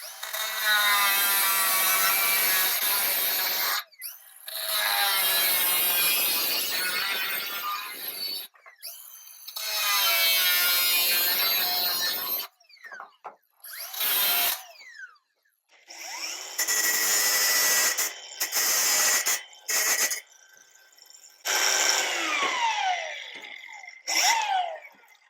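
Cutting disc grinding through fender material near a turn signal bezel, with long loud screeching cuts broken by brief pauses and shorter choppy passes toward the end.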